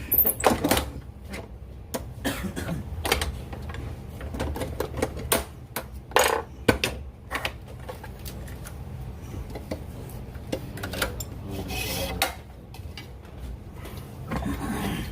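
100 lb Cortland hollow core braided line being spooled onto a Shimano TLD50 LRSA fishing reel, a close, busy run of rapid clicks and ticks with clacking bursts throughout.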